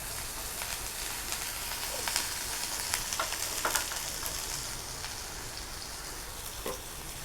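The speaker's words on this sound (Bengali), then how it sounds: "ভর্তাতে দেওয়ার জন্য আমি পেঁয়াজ বেরেস্তা করে ভেজে নিচ্ছি সরষের তেল দিয়ে।" Onions fry in mustard oil in a pan until crisp and browned, a steady rain-like sizzle with scattered light crackles, even and close throughout, with no one talking.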